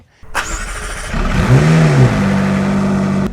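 A McLaren sports car on a shakedown drive: a sharp click, then the engine catches and revs loudly up and down before settling into a steady close idle.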